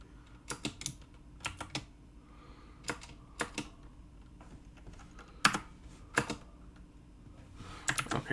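C# code is typed on a computer keyboard in short, irregular bursts of crisp, close keystrokes separated by brief pauses, with no speech.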